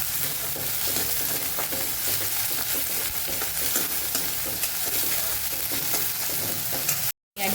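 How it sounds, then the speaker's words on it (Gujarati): Ginger, green chili and garlic paste sautéing with onion in a pan for pakoda bites, a continuous close sizzle broken by regular stirring scrapes, ending in a brief cut of silence. "સાથે જ આપણે આદુ, મરચાં અને લસણની પેસ્ટ ઉમેરી દઈશું, એને પણ સરસ સાતળી લેશું।"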